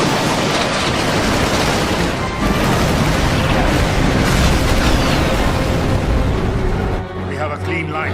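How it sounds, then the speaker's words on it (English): Cannon volley booming in a video game battle, dense continuous roaring blasts with heavy low rumble throughout, tapering briefly near the end, with voices mixed in. "Give word to the cannons. Make ready and fire."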